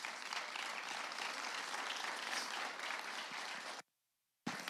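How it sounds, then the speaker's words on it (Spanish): A church congregation breaks into strong, sustained applause, a dense wash of clapping that cuts off abruptly near the end before resuming briefly. "Denle ese fuerte aplauso al Señor."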